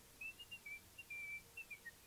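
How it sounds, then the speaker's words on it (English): A person whistles a short, wavering tune in a quick series of high, clear notes, fairly faint against a quiet background. "He's whistling."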